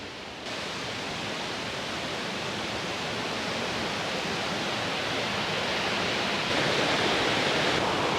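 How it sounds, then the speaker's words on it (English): Waterfall in a river gorge near Ubud, a steady broadband roar of falling water that stays constant and close throughout, with no voices. "Just see the waterfall on the right side here."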